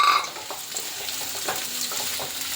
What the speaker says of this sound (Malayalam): എണ്ണ ചൂടായിട്ടുണ്ട്. ഈ സവാള ഇതിനകത്തോട്ട് ഇട്ട് നന്നായിട്ടൊന്ന്